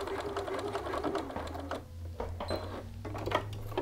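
Sewing machine stitching a shirt collar seam up to the seam line, a steady close mechanical whirr with brief pauses and restarts as the fabric is adjusted and back-tacked.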